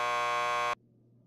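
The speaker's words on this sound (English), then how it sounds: "Just press the buzzer by the door." A door buzzer at a lockup in Max Payne 2 sounds once, a harsh, loud electronic drone lasting under a second before cutting off abruptly into quiet room tone.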